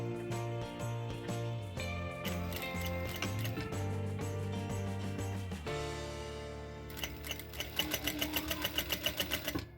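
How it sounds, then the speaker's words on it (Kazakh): A sewing machine stitches a shirt cuff with a rapid mechanical whir that runs in stretches and pauses, ending in a distinct rhythmic ticking of individual stitches up close. "Енді осыны тігіп аламыз."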